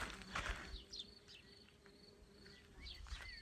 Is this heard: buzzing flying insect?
yes